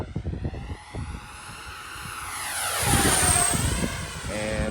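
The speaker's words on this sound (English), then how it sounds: "This is an excellent flying airplane." A Freewing F-14 64mm RC jet passing overhead, its ducted-fan whine rising and sweeping in pitch as it flies by, growing louder toward the end over outdoor background noise.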